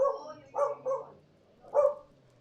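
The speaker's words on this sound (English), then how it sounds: "That was my dog." A pet dog lets out a few short barks close by in a quiet room, two quick yaps followed by a single bark after a pause.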